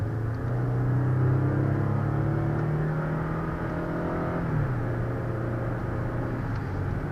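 A 2016 GMC Canyon SLT pickup with a 305-horsepower engine accelerates hard on an open road: a steady engine drone climbs in pitch, then dips as it shifts and carries on, heard from inside the cab with no talking.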